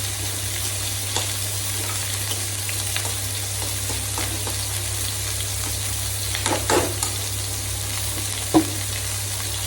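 Shrimp fry in a pan with a steady, close hiss of sizzling oil that holds even throughout, broken by a few faint scrapes and clicks, with no voices.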